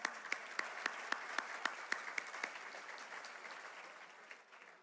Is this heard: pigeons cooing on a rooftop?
no